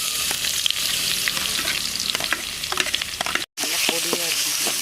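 Onions frying in oil in a pan for a goat lung gravy, a steady loud sizzle with crackling pops and stirring scrapes, briefly cut off near the end before the sizzle resumes.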